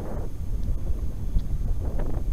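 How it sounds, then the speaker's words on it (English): Wind blows against a boat running at about quarter throttle, making a steady low rumbling buffet on the microphone, with a faint engine drone underneath. "Wind is blowing it,"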